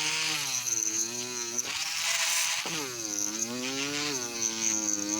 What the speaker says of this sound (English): it seems to drill quite well